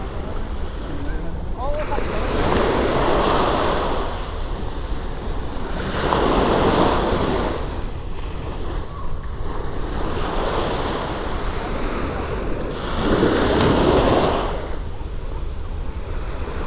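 Ocean waves roll onto the seashore in loud, rushing surges every few seconds, with wind buffeting the microphone between breakers.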